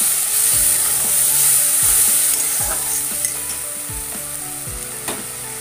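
Spice paste for a rohu fish curry sizzles steadily in a pan while a utensil scrapes and stirs it in repeated strokes, with no talking.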